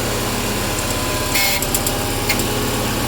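A Bolens QT16 garden tractor engine, over ten years old, runs right after start-up with a loud, steady, close chugging drone and a few brief higher rattles on top.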